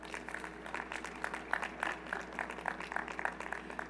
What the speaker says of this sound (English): Please give a round of applause to the ensemble.